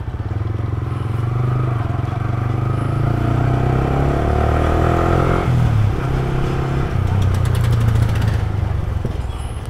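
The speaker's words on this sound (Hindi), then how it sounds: "कोई बहुत बढ़िया और भारी भरकम अपना बाइक जा रही है" A heavy motorcycle rumbles past nearby with a loud, steady engine drone that shifts pitch midway as it goes by, with some clatter on top.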